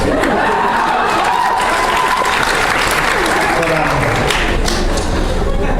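An audience at a music clinic applauds with dense, sustained clapping, with a few cheers mixed in.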